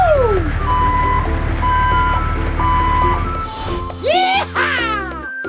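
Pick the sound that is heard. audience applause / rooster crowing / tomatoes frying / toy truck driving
toy truck driving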